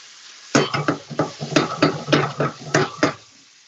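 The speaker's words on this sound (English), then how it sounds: "boiling the sauce into an emulsion to finish off cooking those shrimp as well" Shrimp cooking in a bubbling garlic sauce for gambas al ajillo, reduced to an emulsion in a pan, with a run of close, sharp clatters and stirring knocks over a steady sizzling bed.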